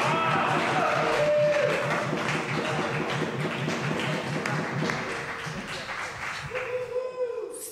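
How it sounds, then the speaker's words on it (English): Football crowd at a British Premier League match, broad applause and cheering rising early then easing, with a steady rhythmic clap pattern underneath and a commentator's voice talking over it. "there's some energy from the crowd"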